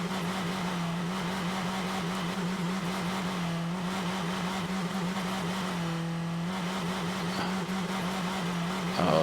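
A car engine idling in a garage after being started on a fresh battery, a steady close rumble with an even low hum that wavers slightly and holds throughout without talk.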